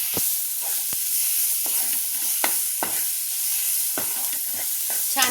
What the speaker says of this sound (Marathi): आता मी यात एक असं पाण्याचा हबका देणार आहे आणि छान परतून घ्यायचा परत टोमॅटो.